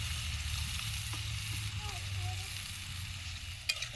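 Loitta fish paste dumplings frying in hot oil, a steady broadband sizzle with low cooking rumble underneath and a brief sharp clink near the end, outdoors by a riverbank.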